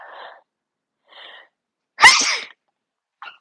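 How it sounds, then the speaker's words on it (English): A single loud, close sneeze bursts out, preceded by two soft breathy inhales and followed by a brief sniff. "excuse me because I'm about to sneeze."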